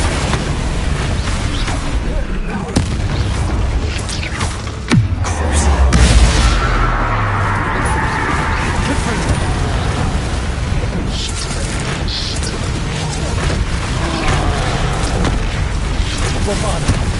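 Bombarda and Confringo spell explosions from the video game Hogwarts Legacy on PS5, with booming blasts and bursts sounding continuously and loudly over game music and effects.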